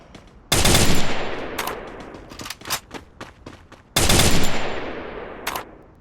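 Loud bursts of automatic gunfire from a shooting video game, two sustained volleys with scattered single shots between them, close and dominant.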